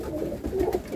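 Pigeons coo softly in a pigeon loft, a brief low, throaty burble heard up close with no talk.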